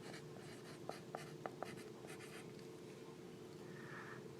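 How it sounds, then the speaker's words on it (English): The word "negative" is written by hand during a math lesson, heard as faint, soft scratchy strokes with a few small taps over a quiet room hum. "I'm going to go ahead and write the word negative"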